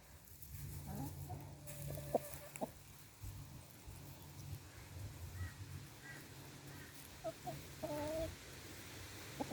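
Rescue chickens cluck softly in scattered bursts against a quiet outdoor background, with a few sharper calls near the end.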